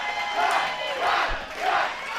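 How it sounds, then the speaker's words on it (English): A wrestling crowd roars and cheers for the Gotch brothers in a continuous swell, rising and falling in waves, loud and close throughout. "Listen to the crowd"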